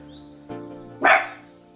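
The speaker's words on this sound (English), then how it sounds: "Forgive my dog for barking." A pet dog indoors near a home kitchen where chicken and rice soup is cooking gives two sharp barks about half a second apart, the second louder, over a faint steady background hum.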